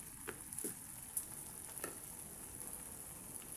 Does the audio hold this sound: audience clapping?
no